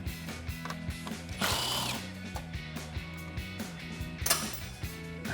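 A ratchet on an extension loosening 10mm bolts from the grille of a 2014-2015 Chevrolet Silverado 1500, rapid close clicking pawl runs repeating throughout, with a brief clatter midway and no talking.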